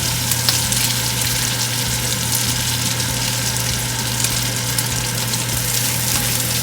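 Onions frying in a pan for pork and liver adobo, a steady dense sizzle over a constant low hum, unbroken and without voices.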